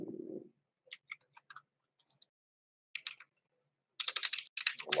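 Fingers typing a message on a computer keyboard: short bursts of light, quick key clicks with pauses between them, ending in a denser flurry of taps, heard close and alone.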